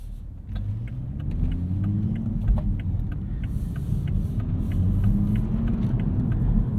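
A 2023 Toyota Supra with a 6-speed manual pulls away, its engine a steady low rumble with rising and falling tones as it accelerates through the gears, heard from inside the cabin with no talking.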